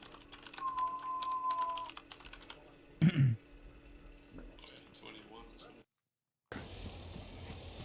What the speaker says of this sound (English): Please be the typing video.